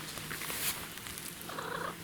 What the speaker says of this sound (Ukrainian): ще у нас є дачний кіт